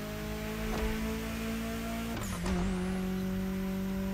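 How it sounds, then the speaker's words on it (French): Turbo whoosh and engine note from a car in the racing game The Crew Motorfest: a steady engine hum with a sharp hiss and rising whistle of turbo spool about halfway through, with no talking. "le bruit du turbo"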